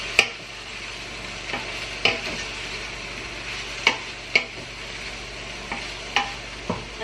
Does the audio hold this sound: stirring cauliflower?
yes